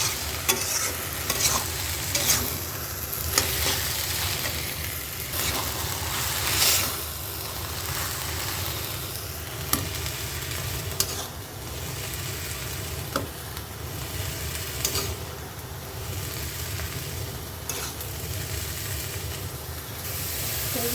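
Water lily stems being stirred as they fry in a pan, a steady sizzle and hiss with intermittent scraping of the spoon, close and continuous without any talk.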